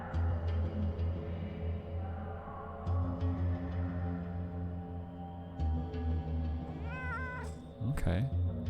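A cat meows in the PC game Underrail, a couple of short, wavering cries near the end under a steady low game ambience, while someone talks throughout.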